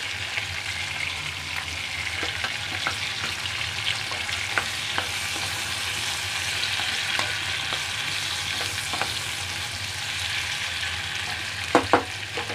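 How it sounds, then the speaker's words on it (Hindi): Spices with tomato and a pinch of clove powder fry in a pan for a dhaba-style dish, a steady close sizzle with occasional scraping stirs and a couple of sharper clinks near the end. "टमाटर गलने तक मसाले को बना लें। बीच बीच में हिलाते रहें।"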